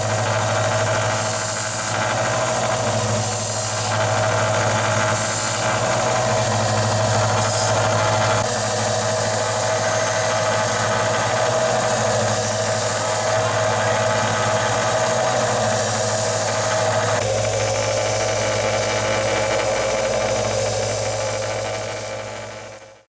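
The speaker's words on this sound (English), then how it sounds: "So they are all cleaned up around the edges with the sander." Sander deburring the edges of homemade silver coins, a continuous loud grinding whine with a faint squeal that runs unbroken for over twenty seconds and then cuts off, with no voices.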